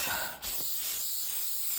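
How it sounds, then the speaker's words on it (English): Shellac is sprayed from a can onto a sanded wooden base, a steady close hiss that runs almost unbroken with one brief dip. "Now I'm going to spray it with a little bit of shellac"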